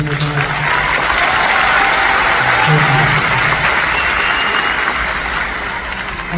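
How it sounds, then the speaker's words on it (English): A large graduation crowd at the Chaffee College Class of 2022 ceremony applauds the students, a dense, loud and sustained roar of clapping from a big audience, with some voices mixed in. "So give them a round of applause."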